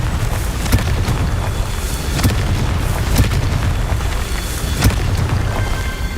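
A Confringo fire spell blasts repeatedly in the Hogwarts Legacy video game during a Merlin trial, several sharp booming bursts landing at irregular intervals over a steady low rumble, close and loud, with no voices.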